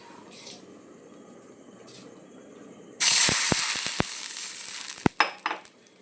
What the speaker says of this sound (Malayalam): കുറച്ച് വെള്ളം കൂടി ഇതിലൊഴിക്കണം ആ വെള്ളം ഇതിലൊഴിക്കാം